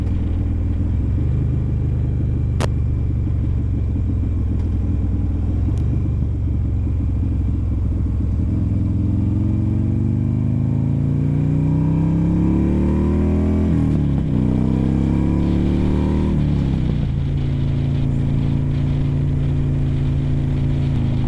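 Steady, loud engine drone from a Buell Ulysses motorcycle being ridden, rumbling continuously with the pitch climbing as it accelerates through the gears, plus wind noise and no talk.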